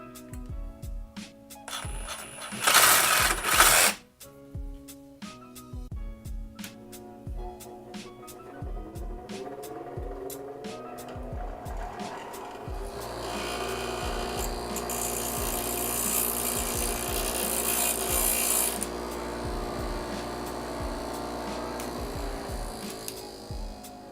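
A part for an induction heater enclosure is trimmed to length with a power tool, short bursts of harsh cutting followed by a sustained grinding, rasping run, up close with clicks and handling noise between cuts.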